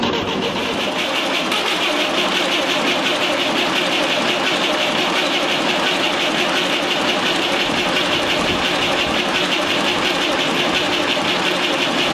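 A small standard diesel tractor engine runs in cold weather, a loud, steady, knocking mechanical clatter that continues evenly and up close with no pause.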